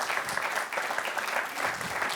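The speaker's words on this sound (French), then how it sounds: "on vous applaudit quand même" A studio audience on a TV quiz show applauds, a dense and fairly loud burst of many hands clapping that stays even throughout a short stretch.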